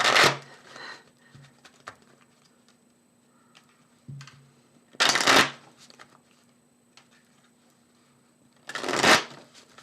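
Tarot cards being shuffled in three separate loud riffling bursts spread several seconds apart, with faint taps and handling noises in the quiet gaps between.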